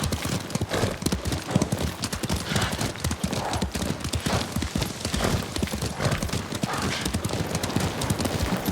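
Horses galloping in the video game Ghost of Tsushima, a dense, continuous clatter of hooves close up with a few whinnies mixed in, running loud throughout.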